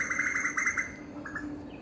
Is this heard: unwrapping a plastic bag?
no